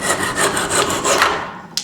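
A handsaw cuts through the end of a wooden pump drill shaft in the workshop, with steady rapid back-and-forth rasping strokes close up and a small knock at the end.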